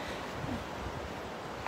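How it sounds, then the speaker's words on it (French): Wind rushes softly and steadily through trees outdoors in Paimpol, Brittany, a faint, even whoosh with no other distinct sounds. "j'entends le vent dans les arbres"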